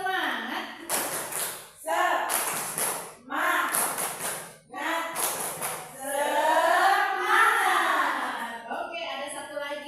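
A group of mothers clapping the rhythmic 'tepuk semangat' clap chant in a class session, bursts of patterned hand claps alternating with a voice leading the chant.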